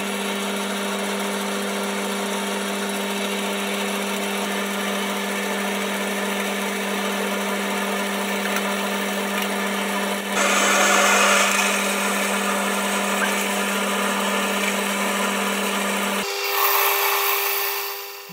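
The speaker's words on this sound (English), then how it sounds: "Now I'll drill a hole through the middle." A power drill whines steadily for a long stretch, its pitch and grind shifting as the bit bites into a metal bearing block, loud and close.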